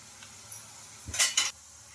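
Murukku frying in oil, turned over with a metal utensil that gives a couple of bright clinks and scrapes against the pan over a faint sizzle.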